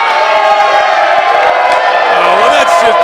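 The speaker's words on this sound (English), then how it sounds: "they're giving him some residual cheers." A wrestling crowd at an NWL STL show cheering and shouting steadily and loudly throughout, a dense roar of voices with a commentator talking over it.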